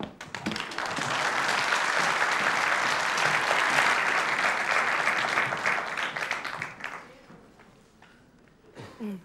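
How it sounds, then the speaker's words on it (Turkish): A studio audience at a Turkish TV talk show claps in a dense, sustained burst of applause that swells, holds for several seconds and then tapers off, with a brief sound at the very end. "Vallahi öyle güzel alkışladınız ki yani."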